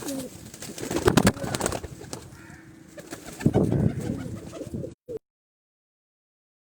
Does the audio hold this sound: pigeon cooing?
yes